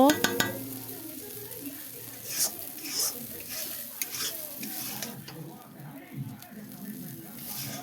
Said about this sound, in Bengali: এইখানে এখন সবজির সাথে ভালো করে মশলাটা আবারও কষিয়ে নেব